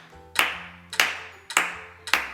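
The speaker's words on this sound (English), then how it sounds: "So sometimes we clap." Four sharp hand claps land at an even, steady tempo of about 105 beats per minute, close and clear, with a faint low tone sustained underneath between the claps.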